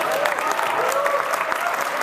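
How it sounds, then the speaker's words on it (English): An audience claps steadily at a website launch event at ITB Berlin, with dense, even applause filling the space throughout. "I just ask you for a big round of applause for the official launch of pocketvillage.com."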